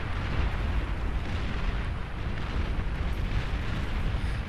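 Artillery barrages and explosions rumble continuously in the BAR real-time strategy game, a dense low booming wash with scattered pops, steady and moderately loud, with no voices.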